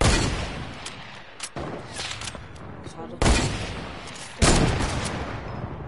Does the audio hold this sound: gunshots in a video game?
yes